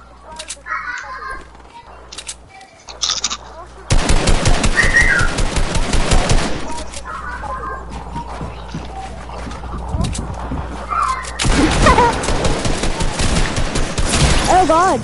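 Bursts of rapid automatic gunfire and fusillade from a PS4 online shooter game, loud dense volleys around a quiet middle stretch with birdlike ambient sounds, while players talk over it.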